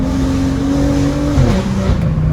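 A BMW M2's N55 straight-six engine running, loud and close, a steady droning growl with a slight pitch shift near the end before cutting off abruptly.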